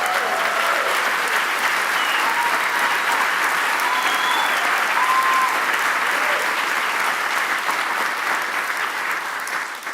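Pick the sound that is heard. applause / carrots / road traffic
applause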